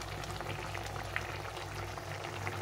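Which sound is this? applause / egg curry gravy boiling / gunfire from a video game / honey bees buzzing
egg curry gravy boiling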